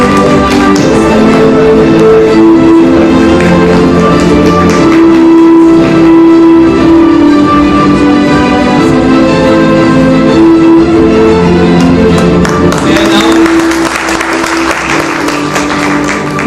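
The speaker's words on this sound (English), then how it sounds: "keep clapping, guys, keep clapping" An audience claps continuously in a university senate hall during a plenary session of an international conference as a token of gratitude is presented, steady applause over sustained background music.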